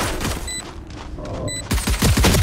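Gunfire in the video game Valorant comes as quick bursts of sharp shots, then a lull with a few electronic tones, then another heavy volley of booming rounds close up.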